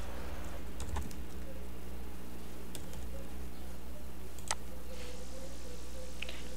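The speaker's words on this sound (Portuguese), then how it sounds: "Aí você vai digitar o nome da extensão aqui" A few sparse key clicks on a computer keyboard as an extension name is typed, faint and close over a steady low room hum.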